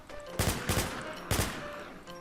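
Gunfire in the online survival shooter Infestation during a PVP fight: three or four sharp, loud bursts of shots in quick succession, close by, with no talking.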